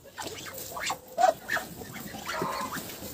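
Ducks run about a muddy autumn farmyard, giving a few short quacks and scattered calls at a moderate distance over low yard noise.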